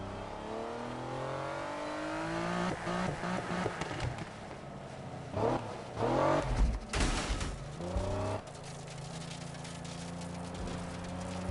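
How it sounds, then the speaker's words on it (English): A car drives over gravel in the 2015 Need for Speed racing game, its engine droning and revving steadily with bursts of crunching, skidding tire noise, loud and continuous throughout with no talking. "I love that I can hear the sound of the gravel in the cars."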